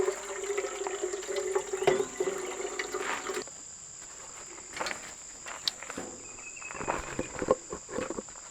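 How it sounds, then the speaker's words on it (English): Water runs from a Dometic Go faucet on a 3-gallon jug beside a camping trailer, a steady close splash for a few seconds that stops, followed by quieter handling and outdoor background with insects. "Dometic Go faucet, and I've got the 3-gallon jug."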